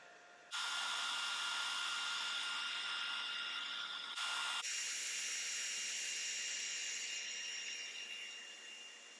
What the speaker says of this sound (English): I'm turning the hairdryer, bringing it a little bit lower so I can get more of my base